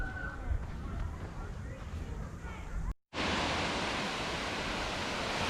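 Eagle Creek Falls, a waterfall seen while backpacking the Tahoe Rim Trail, roars as a steady broadband rush after a brief cut, loud and continuous with no break.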